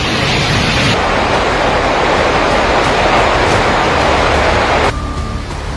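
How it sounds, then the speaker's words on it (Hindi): Swollen river in flood after cloudburst rain in the Uttarakhand hills near Rudraprayag, a loud steady broadband roar of rushing water close by that drops away slightly near the end. "बादल फाड़ बारिश से नदी नालों में उफान।"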